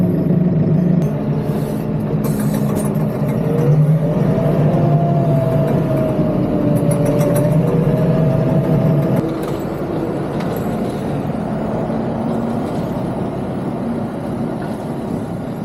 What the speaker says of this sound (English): Let's engage the PTO. Blades are now spinning.